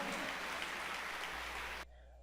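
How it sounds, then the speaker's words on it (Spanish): A church congregation at a live revival worship service applauds loudly for nearly two seconds, a dense continuous wash of clapping that cuts off abruptly near the end. "le dan un aplauso fuerte a Cristo con todo el corazón"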